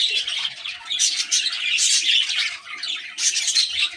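Pet lovebirds squawk and chirp in quick, shrill bursts, a close flock chattering continuously with brief pauses, no talking.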